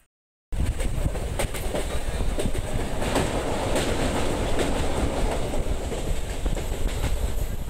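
After a brief silence, a train rumbles loudly along the rails with rhythmic clickety-clack of wheels over track joints, steady and close, arriving at Rampurhat.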